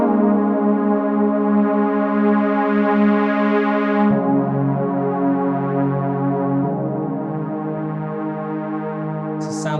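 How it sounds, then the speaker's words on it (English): A Pro Tools Synth Cell software synthesizer plays a sustained, harmonically rich tone whose brightness sweeps and shifts, with a pitch change midway, clean and alone. "flip across to the next track, which has Synth Cell on, which sounds something like this."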